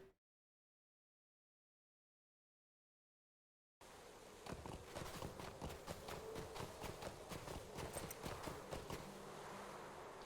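Horse hooves clop at a steady walking pace in a Lord of the Rings video game, the rhythmic footfalls starting abruptly after several seconds of silence and continuing, fairly close and even, over a busy game ambience.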